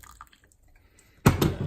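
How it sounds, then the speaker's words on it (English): Boiling water is poured into a pan for a turkey mince stir fry, a short splashing gush that starts abruptly after a quiet moment. "all I'm going to do is add in some boiling water"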